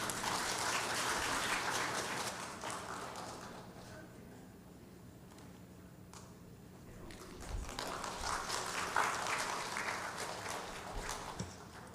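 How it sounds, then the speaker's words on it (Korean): Gentle applause from a church congregation during a Sunday worship service, a soft, steady patter of many hands that dips midway and swells again toward the end, quiet and somewhat distant. "여러분 잔잔한 박수로 축복해 주세요."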